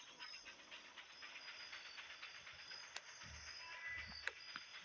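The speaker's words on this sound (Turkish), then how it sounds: "Tren geçiyor arkadaşlar görüyor musunuz şurada?" A train rolls past in the Westbound video game with a steady, hissing rumble that holds at an even level throughout, with a couple of brief sharper clicks near the end and no talking.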